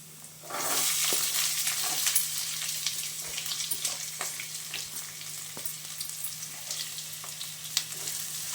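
Onions, garlic and curry leaves fry in oil for a bitter gourd palya, a close continuous sizzle with scattered crackles and light stirring clicks throughout.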